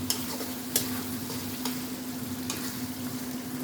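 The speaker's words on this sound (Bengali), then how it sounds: "খাসির মাংস মশলা কষাচ্ছি।" Spices being stir-fried in a pan for goat meat curry, a continuous soft sizzle with a few sharp scrapes of the spatula at irregular intervals, close and alone without talk.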